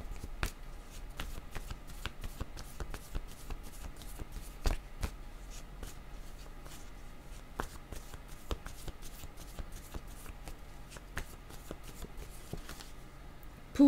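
Tarot cards are shuffled continuously by hand, giving soft, rapid, irregular riffling and flicking clicks that run steadily and close up with no talk over them.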